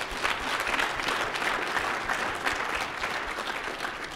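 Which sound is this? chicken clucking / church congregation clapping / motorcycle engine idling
church congregation clapping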